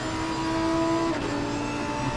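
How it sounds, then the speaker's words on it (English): Lamborghini race cars lapping the Kyalami circuit in a PC racing game, one engine droning loud and steady at high revs before a brief dip as it shifts, then pulling on, continuous and close with no voice. "Lamborghini versus Lamborghini."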